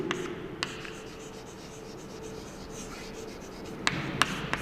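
A pen writes on a page in a steady, soft scratching rub, close up, with a few sharper taps and strokes near the end.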